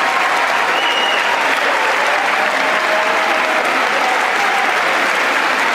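A large audience in a hall applauds during a Biden speech, with people standing and clapping in a dense, loud, sustained roar of hands that stays steady throughout, with faint crowd noise mixed in.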